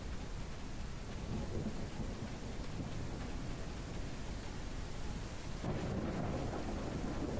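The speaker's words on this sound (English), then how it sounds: "Did I get struck by lightning there?" In the video game Truck Mechanic: Dangerous Paths, steady heavy rain hisses while a deep rumble of thunder from a lightning strike swells, with a sharper crack near the end.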